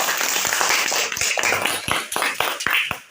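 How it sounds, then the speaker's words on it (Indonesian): Pupils in a classroom religion lesson clap their hands in a patterned rhythm of crisp, repeated beats, close and steady throughout with a faint background hum of voices. "mari kita tepuk tangan untuk Tuhan."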